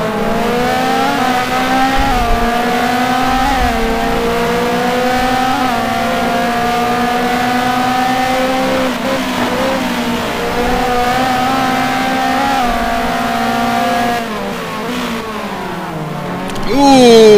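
Race cars at Magny-Cours circuit braking hard into a hairpin and accelerating out, multiple engines whining and shifting pitch continuously, loud and close throughout, with commentary talk running underneath.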